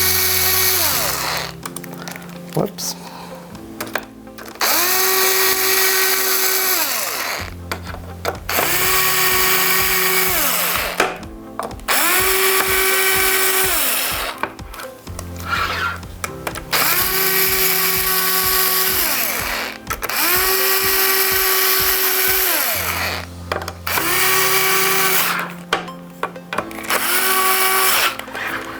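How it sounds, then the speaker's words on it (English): Power tool repeatedly driving screws into a Flowcine Tranquilizer camera stabilizer after O-ring replacement, in loud whirring bursts of about four seconds separated by brief pauses, with a single short spoken word partway through. "So I just finish this off by my power tool."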